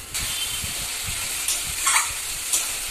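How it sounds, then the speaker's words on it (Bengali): A spice paste fries in a pan with a steady, steamy hiss while soft, rhythmic stirring thuds keep time underneath and a few brighter scrapes rise briefly near the end. "মশলা দিয়ে ভালো করে কষিয়ে নেব।"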